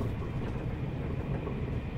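A sprinter train pulls away from Amsterdam Centraal in an animated recreation, a steady dense low rumble of wheels and carriages holding level throughout with no voices.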